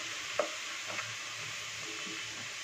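Ginger paste fries in hot oil during amla pickle making, a faint, even hiss with a couple of soft stirring clicks, quiet and close, no talk.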